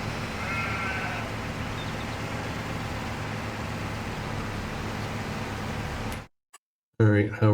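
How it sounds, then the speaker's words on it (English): A flock of sheep in Farming Simulator, with a few short bleats near the start over a steady loud wash of machine noise, which cuts out briefly before a voice speaks at the end. "bunch of sheep's coming through"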